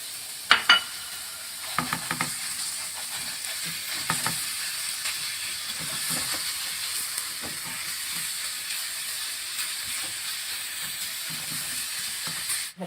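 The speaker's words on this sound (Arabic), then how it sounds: "هننزل بقى باللحمة بتاعتنا كده، بس البصلة بردت شوية." Half a kilo of minced meat with onion sizzles and hisses steadily in a pan, punctuated by scraping stirs and occasional clacks of the utensil, close and continuous with no talking.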